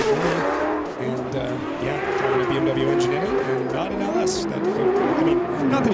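A BMW-engined drift car roars around the Formula Drift track at Irwindale, its engine droning and shifting pitch with squealing tires, under loud crowd noise and an announcer talking.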